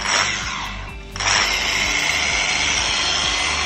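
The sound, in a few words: Lake Country UDOS 51E power sander switched on in sander mode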